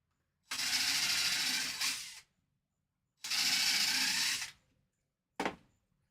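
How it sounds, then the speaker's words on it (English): A power drill whirs in two bursts of about a second and a half each, drilling pilot holes in wood, then gives a brief final zip, with silence between. "Drill 2 pilot holes."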